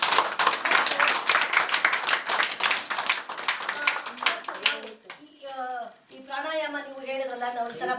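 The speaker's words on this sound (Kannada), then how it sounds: "ನನ್ನ ಕಡೆಯಿಂದ ಎಲ್ಲರಿಗೂ ಒಂದ್ಸರಿ ಚಪ್ಪಾಳೆ ಹೊಡಿಬೇಕು" A crowd at a yoga camp gathering claps together in dense, steady applause for about five seconds, then it gives way to a person talking.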